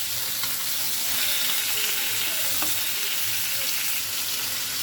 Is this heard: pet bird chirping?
no